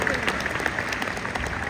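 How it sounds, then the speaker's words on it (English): Applause from an audience, a steady patter of many hands clapping throughout. "How about a round of applause for our sponsor"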